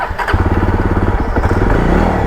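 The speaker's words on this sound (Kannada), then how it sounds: "ಗಾಡಿ ಸ್ಟಾರ್ಟ್ ಆಗ್ತಿಲ್ಲ." A Jawa Bobber 42 motorcycle engine cranks and catches, settling into a loud, close, rapid thumping idle with steady low-pitched pulses throughout.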